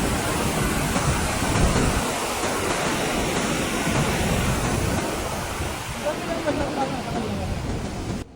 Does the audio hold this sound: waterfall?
yes